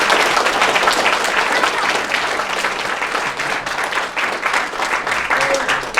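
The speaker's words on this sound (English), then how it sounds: "let us all give a round of applause for that" An audience at the Everfree Northwest convention breaks into dense, sustained applause that stays loud and steady for the full six seconds, filling the room.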